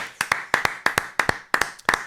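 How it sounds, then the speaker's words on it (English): A single pair of hands claps in a slow, even rhythm of paired beats, close and alone, a sarcastic round of applause in a football reaction after Crystal Palace beat Liverpool 2-1. "Let's give a round of applause"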